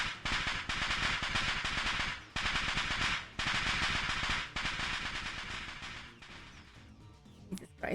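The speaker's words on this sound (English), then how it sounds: "A sound like firecrackers resounds from the other side of the door. A dust explosion." Dust explosion in the Steins;Gate video game, heard as a dense, loud crackling burst like firecrackers that runs for several seconds in repeated waves, then fades into scattered pops.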